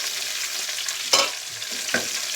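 Chopped bell peppers fry in a pan with a steady hiss of sizzling oil, broken by a couple of sharp stirring scrapes, close up and with no voices.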